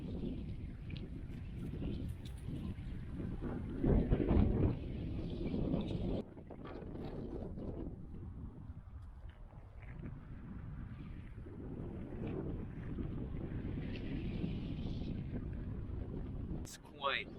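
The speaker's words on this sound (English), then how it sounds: "It's quite windy now. Like, Gotland is very flat and open," Strong wind roars and buffets a microphone across flat, open Gotland by the sea, a steady gusty rush with a louder burst partway through and brief sharp knocks near the end.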